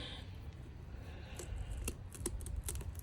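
Several crisp snips from sharp scissors cutting through a plant, spaced irregularly over a low background rumble.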